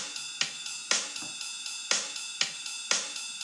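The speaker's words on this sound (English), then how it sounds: "What you hear now is pretty much just a straight up basic rock beat." A basic rock drum beat from the Metronome Beats app, steady eighth-note hi-hat ticks over alternating kick and snare hits, looping evenly and heard clearly on its own.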